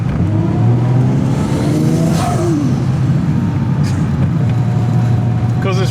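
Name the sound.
Mazda RX8 with 1JZ-GTE VVTI swap, turbo engine hard acceleration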